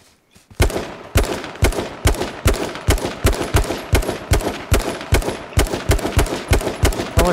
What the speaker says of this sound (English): Someone's shooting at them too.